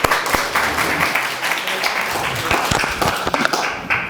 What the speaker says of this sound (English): It's round of applause.